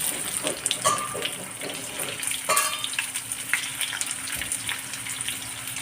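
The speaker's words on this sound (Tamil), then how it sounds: "கொஞ்சம் வதக்கிக்கிடுவோம்." Stuffed bitter gourd sautéing in hot oil in a pan gives a steady, close sizzle with a few light clinks and scrapes of a utensil throughout.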